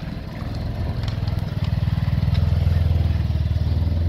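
A mini petrol Jeep Willys with a 150cc engine runs on a test drive, its small engine putting out a rapid, steady low throb that builds and grows louder and closer over the few seconds.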